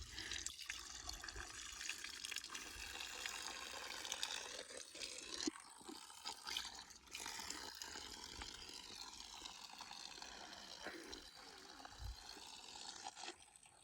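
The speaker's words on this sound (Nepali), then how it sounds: "जङ्गलको बिचमा यसरी पानी छ।" Water running and trickling in the middle of a forest on a hiking trail, a continuous faint gurgling flow with occasional drips and splashes, heard close and alone.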